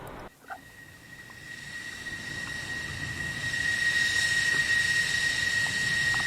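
An F-14B jet engine in the DCS flight simulator hums and roars steadily, with a high whine over a broad rushing rumble that slowly builds in loudness, heard from outside the aircraft without any talking.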